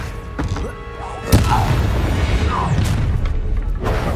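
A Confringo explosive spell in Hogwarts Legacy goes off with a sharp booming blast, followed by a dense crackling, rumbling roar of game combat that stays loud to the end.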